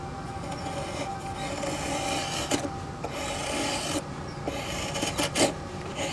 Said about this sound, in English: Carving blocks is a very relaxing thing.